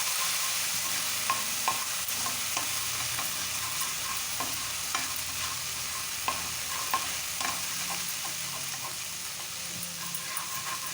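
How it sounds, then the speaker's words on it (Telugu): Ginger garlic paste fries in a pan with stirring, cooking for a hotel-style chicken fry curry. A dense, even sizzle runs throughout, with light scraping clicks from the spoon and no voices. "బాగా వేసుకుందామండి. పచ్చివాసన పోయే వరకు వేసుకున్నాం అల్లం వెల్లుల్లి పేస్ట్."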